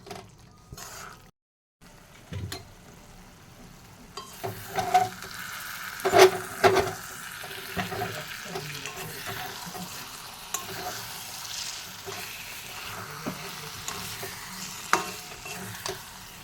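Dried fish frying in a pan on a gas stove and being stirred: a low steady sizzle runs throughout, broken by scraping and clattering stirs that grow busier midway, close and fairly quiet, with no talk.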